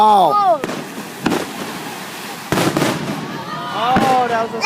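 Fourth of July fireworks explode over Hilo Bay in a string of loud bursts, amid whistles and excited voices nearby.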